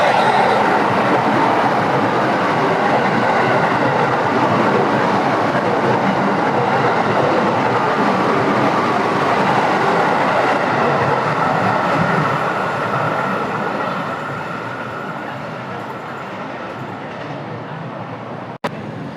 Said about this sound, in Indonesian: Yang masuk di jalur 4 ini adalah rangkaian kereta api Purwojaya yang barusan datang dari stasiun Cilacap ya.